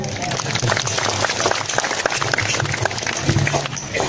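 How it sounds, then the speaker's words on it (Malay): Audience applause at a religious gathering, many people clapping in a continuous rustling wash with voices murmuring beneath, steady and moderately loud throughout. "Betul, luar biasa. Tepuk tangan dong."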